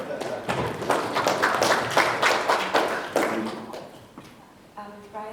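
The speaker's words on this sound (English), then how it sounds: "A round of applause for Mrs. Butler" Applause from an audience welcoming a speaker to the podium at a local government event, a dense run of clapping that swells and then thins out before fading.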